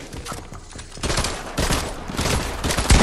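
Rapid gunfire bursts in a Fortnite zone wars match, loud and close, rising in intensity through the second half with dense overlapping shots.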